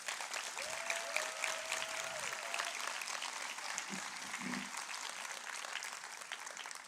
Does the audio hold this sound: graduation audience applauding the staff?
yes